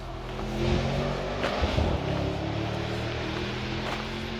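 A big, heavy V8 car passes on the Nürburgring, its engine note swelling to a peak around the middle and then trailing off as it moves away, with steady background noise underneath.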